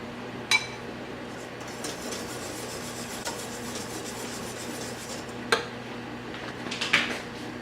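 Glass canning jars for homemade papaya jelly clink against each other as they are handled. Three sharp chinks stand out over a quiet background of soft rubbing and handling noise, with no talking.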